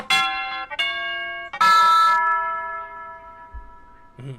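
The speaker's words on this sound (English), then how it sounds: "got a lot of bells" Several bright, ringing bell strikes, each one sustained and decaying slowly, with a few separate hits spaced apart and a soft knock near the end.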